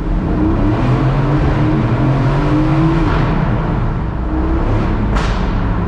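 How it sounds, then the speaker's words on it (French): Aston Martin Vantage Roadster with an AMG V8 driving along a coastal road, the engine droning and revving steadily under load, loud and close, ending with a sharp burst that could be an exhaust pop. "Le V8 AMG, il fait des retours"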